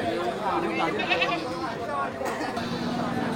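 Large billy goats bleating at a livestock market selling goats and sheep, wavering bleats rising over a dense crowd hubbub of chatter and nearby talking.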